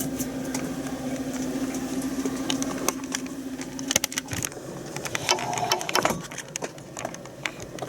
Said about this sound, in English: So, generator is running again.